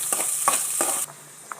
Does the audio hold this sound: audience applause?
no